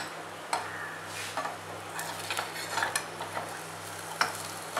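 Karandi omelette cooking in a small pan, with soft sizzling and light scraping and clinking of a utensil as it is stirred and turned, quiet and close with no talking.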